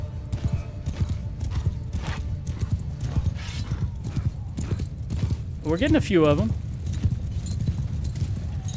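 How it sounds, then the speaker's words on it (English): Cavalry horses charging in the video game Mount & Blade II Bannerlord, with steady hoof clip-clop throughout, a loud neigh midway, and battle noise under someone talking. "Horse charge!"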